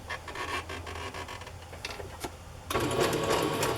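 A sewing machine stitches decorative rows on cardstock with rapid, fairly quiet mechanical tapping, then becomes louder and steadier in its final second.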